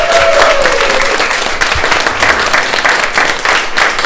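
An audience at an art exhibition in Oslo, Norway, breaks into loud, sustained applause, dense overlapping clapping close by from a room full of people, with a brief whistle-like tone early on.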